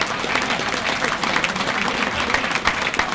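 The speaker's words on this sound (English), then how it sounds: "What do you clap for?" A banquet crowd claps in a dense, even burst of applause that stays loud and steady throughout, with no voice standing out over it.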